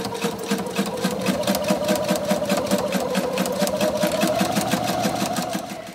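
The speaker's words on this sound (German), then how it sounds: "Und näht sie knappkantig fest" Sewing machine stitching narrowly along the folded fabric edges of a bag, with a steady, fast mechanical rattle running continuously at close range.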